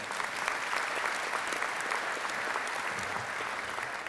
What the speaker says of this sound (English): So let's give, in their absence, Nielsen Company a round of applause, if you would, please.